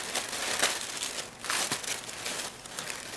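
Cardboard and plastic packaging of a monthly book subscription box being cut and pulled open, producing quiet crinkling, crunching and tearing in short close bursts.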